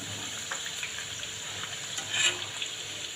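Garlic fries in hot oil with a steady, moderately loud sizzling hiss, fairly even throughout with a brief swell of crackle partway through.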